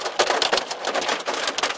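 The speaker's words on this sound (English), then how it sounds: "Wow, it's just hailing." Pea-size hail falls during a thunderstorm in Gray, Maine, making a dense, steady patter of hard rapid impacts, loud and close, with no voices.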